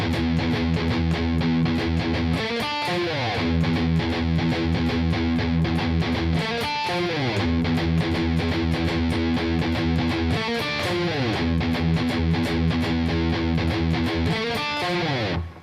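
Heavily distorted electric guitar chugs a palm-muted open-E riff, loud and relentless, with tight repeated low chugs broken by accented chord slides every few seconds.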